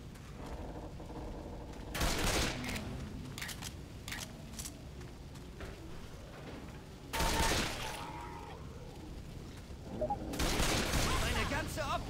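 Rapid bursts of gunfire in Left 4 Dead 2, a zombie co-op shooter set in a hotel, come in three loud volleys separated by quieter game noise, while a voice talks throughout.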